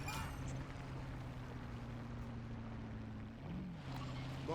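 Vehicle engine in the video game MW3 Zombies: a steady low motor drone with a continuous hum, fairly faint and even throughout, with a brief pitch shift near the end.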